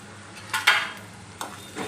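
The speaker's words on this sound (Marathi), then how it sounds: "कांदा छान परतलेला आहे आपण टाकून घेऊया हळद" Onion sautéing with turmeric in a pan, stirred with a utensil, giving a low steady sizzle broken by a few distinct scraping strokes, close and without talk.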